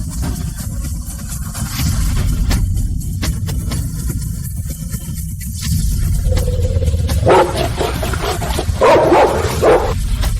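A large Rottweiler barks and yips in short repeated bursts against a loud, dense background of dramatic music and noise.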